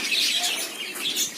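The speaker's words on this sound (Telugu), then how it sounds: "Yellow love birds." Yellow lovebirds at a zoo park, with close wing flapping and bright chirps over a steady flutter, no talking.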